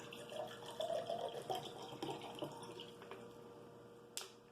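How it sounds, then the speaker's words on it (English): Water poured out of a container while preparing a Canadian IMP lasagna field ration, giving a soft, uneven splashing trickle close by for a few seconds, with a short sharp clink near the end and no talking. "What I'm going to do is pour out a little bit of this water here."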